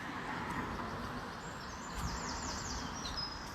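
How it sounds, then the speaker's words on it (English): Birds chirp and sing faintly at a distance in the early morning in London, with high, brief calls over a steady low city hum. "what I love about this time in the morning is that you get a chance to hear the birds"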